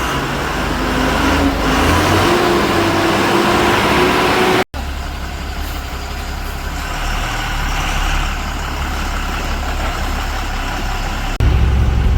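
A truck engine runs steadily during a test drive on a Jammu and Kashmir vehicle, a loud continuous drone with road rumble that holds throughout, briefly cutting out once before resuming.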